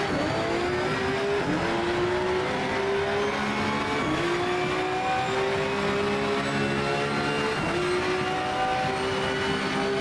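Race cars in Project Motor Racing drone steadily with a whining engine note that climbs through the gears, dips at each shift and climbs again, loud and continuous with no voices.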